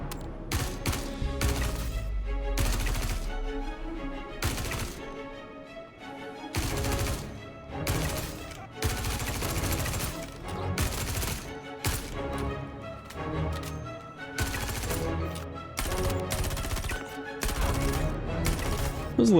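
Rapid bursts of gunfire inside a bunker in the Star Citizen video game, loud and repeated in clustered volleys over a continuous game soundscape, with no talking.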